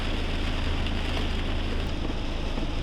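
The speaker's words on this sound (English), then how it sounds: "this rain is no joke today" Rain pours steadily onto a camper bus parked beside the sea, a dense, loud, even hiss with a low rumbling undertone and no voices.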